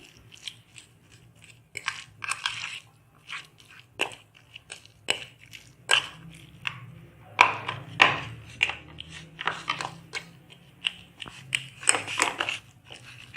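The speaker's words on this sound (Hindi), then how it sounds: "अब हम ये आलू और ये चने जो हैं इनको मैश करके आलूओं में मिक्स करना है हमने" Boiled potatoes and chickpeas being mashed in a bowl, with repeated soft squashing and crunching presses in an uneven rhythm, close and fairly loud, no talking.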